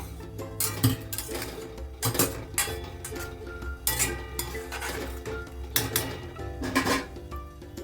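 Winter vegetables are stirred in a metal pot with a spoon for a healthy home recipe, giving a run of close, irregular clinks and scrapes against the pot over a soft background hiss, with no talking.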